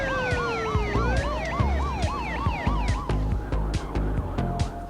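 A British police patrol car siren wails and then switches to a rapid yelp, loud and close, over a steady rumble of road traffic.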